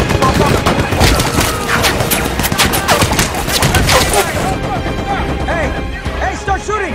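Heavy gunfire erupts in a World War II tank battle scene, dense rapid shots and impacts for several seconds, loud and close, then dropping away as shouted voices continue.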